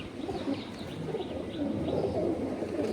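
Pulsar breed pigeons coo in soft, low repeated calls, close by and steady, with a few faint chirps scattered over a constant background murmur.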